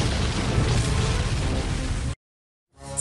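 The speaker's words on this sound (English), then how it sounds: "the beams erupted into a huge magical explosion" Huge magical explosion from clashing energy beams in an animated story, a dense roaring blast sustained for about two seconds before cutting to sudden silence.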